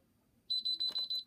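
Brother 970 knitting machine giving a run of five quick, clear electronic beeps in even rhythm, close and fairly loud, ending with a short clatter.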